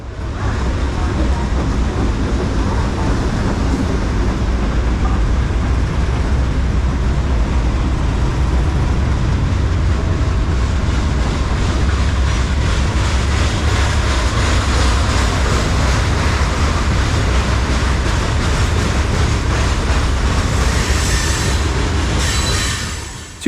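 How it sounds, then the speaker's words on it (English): A long, loaded Providence and Worcester stone freight train headed by four orange GE locomotives rolls westbound close by, a loud continuous rumble with wheel clatter and squealing throughout. "Loaded stone train, Providence and Worcester, Cedar Hill to Fresh Pond, or CHFP for short, meanders past westbound on track 2"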